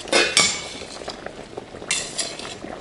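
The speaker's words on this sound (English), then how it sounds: "In the meantime, I'm going to stir my shrimp." A utensil stirring raw shrimp cooking in a pan for pasta, giving a few close clinks and scrapes against the pan, loudest at the start and again near the end, with no talk.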